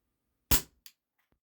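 A WE Tech Bulldog airsoft gas blowback pistol fires a single 0.12 g BB at about 20 °C: one sharp, loud crack, then a quick metallic clack as the slide cycles, and faint clicks afterward.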